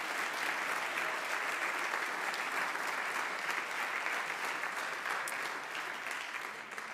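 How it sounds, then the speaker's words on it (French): Sustained applause from the audience at the Trophée Haeberlin 2021 awards ceremony, a steady dense wash of clapping held for several seconds, fading slightly at the end. "On peut les applaudir, s'il vous plaît."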